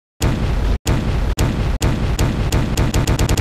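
Explosions in the video game 428 Shibuya Scramble, a series of loud, close booming blasts that start after a brief silence and repeat in quickening bursts, each cut off abruptly.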